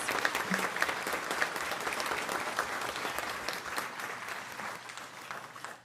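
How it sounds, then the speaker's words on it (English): An audience applauds Odyssey of the Mind competitors at a Martin County school board workshop, a steady round of dense clapping from many hands that holds evenly for several seconds before tapering at the end. "let's give a round of applause to all of our Odyssey of the Mind competitors"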